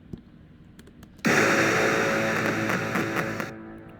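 A sudden deep booming impact from a GarageBand boomer effect that swells into a loud, wide rumble and fades, preceded by a few faint ticks.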